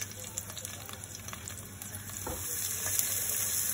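Crushed garlic, three cloves, sizzles as it drops into hot oil in a pan for crab curry, a steady close crackle with a few brief pops, faint background hum beneath.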